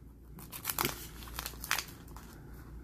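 Foil wrapper of a Panini football card and sticker pack being torn and crinkled open, quiet close-up rustling in two short bursts against a faint background hum.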